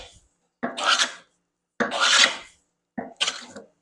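A hand tool blade is sharpened in three full strokes, each a loud, gritty rasping scrape lasting about half a second to a second, with short silences between them.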